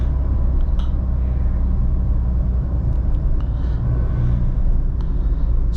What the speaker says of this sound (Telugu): ఇప్పుడు 4th గేర్లో మనము మెల్లిగా వెళ్తున్నా కానీ ఆ ఇంజిన్ ట్రాక్టబిలిటీ చాలా చాలా బాగుంది లోవర్ RPMస్లో